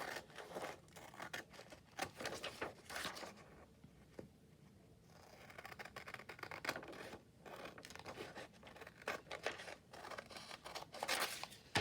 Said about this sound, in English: And I'm going to cut that out.